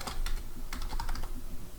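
Fast typing on a computer keyboard, with bursts of sharp clicky keystrokes in quick irregular clusters and short pauses between them, close and clear with no talking.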